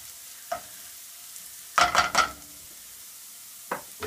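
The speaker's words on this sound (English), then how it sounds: "I have reduced the heat a bit because I want to brown the garlic but not burn it" Garlic browning over reduced heat in a pan for lobster bisque gives a faint sizzle, broken by a few short stirring scrapes, one cluster of three louder bursts in the middle, then quieter clicks.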